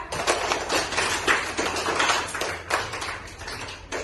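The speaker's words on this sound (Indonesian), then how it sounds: "Tepuk tangan untuk kelompok 2" Pupils in a primary school classroom clap for group 2, a brisk, fairly quiet burst of many hands slapping in an uneven, rapid patter that rises and dips over a few seconds.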